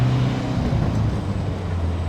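A 1981 Renault R5 Turbo 1 drives on back roads at operating temperature, giving a steady, close engine drone with low harmonic tones that shift in pitch as it runs, loud and continuous with no talking.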